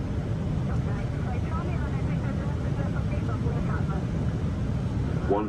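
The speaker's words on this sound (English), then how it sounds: "Cockpit view of an A321 landing, showing the pilots using the side stick." Steady, loud roar of engine and airflow inside the cockpit of an Airbus A321 during landing, a constant broadband rumble with no clear breaks.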